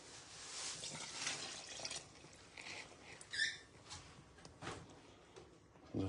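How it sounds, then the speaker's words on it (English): Water, 400 grams of it, is poured into a mixer bowl for pizza dough, making a faint, soft trickling and splashing with a few light drips and patters, close by in a quiet room. "Put the water first."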